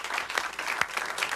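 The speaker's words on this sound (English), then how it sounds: "Give them a big round of applause" A short burst of audience clapping on a television talk show, brisk and moderately loud applause with a few sharper individual claps standing out.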